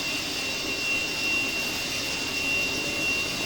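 A helicopter engine spins up in Microsoft Flight Simulator, a loud steady turbine whine with a thin high-pitched tone riding over a constant rushing roar, alone without speech.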